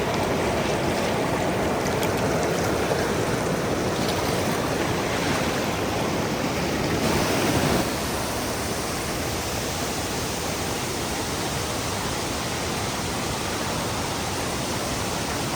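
Durga Suvarna waterfall roars in a dense, unbroken rush of falling water, loud and constant across the whole stretch with no voices over it.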